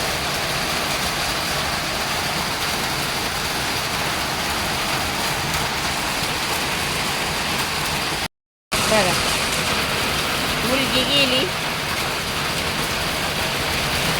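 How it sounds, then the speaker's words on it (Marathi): Heavy monsoon rain pours down in a loud, unbroken roar of drops on surfaces, with a brief dropout midway and a voice speaking briefly over the downpour. "कसा पाऊस आलाय बघा, धो धो धो धो पडतोय बघा"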